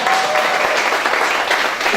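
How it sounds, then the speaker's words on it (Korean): An audience at a party founding convention claps loudly and continuously, a dense wash of applause filling the hall without pause. "뒤에 있는 분들과 박수 소리가 작습니다"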